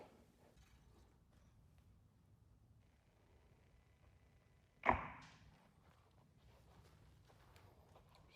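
A single arrow leaves a PSE bow and punches through paper, one sharp loud snap and thump in an otherwise quiet room, briefly ringing before fading back to low background hum.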